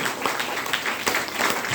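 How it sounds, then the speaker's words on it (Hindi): Sustained applause from a crowd at a health training session in Bhagwanpur, many hands clapping in a thick, even patter that swells slightly toward the end. "जोरदार ताली होनी चाहिए इसके लिए।"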